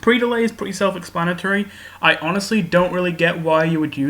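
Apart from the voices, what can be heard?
None of the usual background noises is heard.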